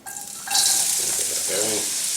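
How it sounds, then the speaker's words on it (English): Half of a prepared onion mix hits hot olive oil in a pan and bursts into a loud, steady sizzle that carries on evenly after the sudden start. "Once the oil's nice and hot, I'm going to add in about half of the onion mix that I prepared."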